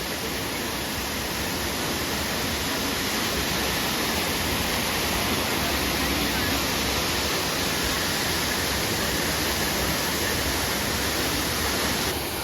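Water pouring and splashing at the Trevi Fountain in Rome, a steady, dense rush with no pauses, close and loud for the whole stretch.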